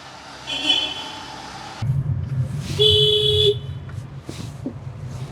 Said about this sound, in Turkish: Sanayi içerisinde şu kornalaşma şeyini bir bırakın artık ya.